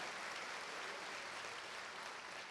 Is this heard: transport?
no